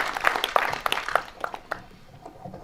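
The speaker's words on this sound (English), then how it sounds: "Can we have a round of applause to all the graduates, please?" Graduates at a technical institute's graduation ceremony receive a round of applause, a burst of clapping from the audience that starts fairly loud and gradually thins out, with a few scattered claps lingering at the end.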